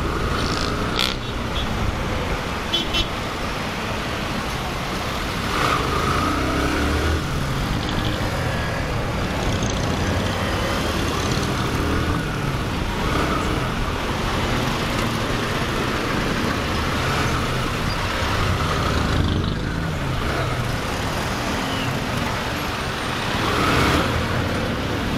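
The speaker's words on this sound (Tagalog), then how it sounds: "Traffic sa Paranaque." Heavy road traffic in Parañaque on the way to Tambo and Don Galo near Roxas Boulevard, a continuous close rumble of cars, buses and trucks with occasional louder passes.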